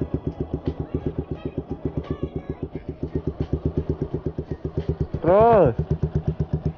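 A manual-clutch motorcycle idles with a steady, close, chugging pulse, then revs sharply once before settling back to idle, with a person speaking briefly over it.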